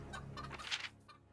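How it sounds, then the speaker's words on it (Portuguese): Chickens cluck in the video game The Mageseeker, a short burst of close, busy clucking and squawks with no talk over it. "As galinhas, nossa."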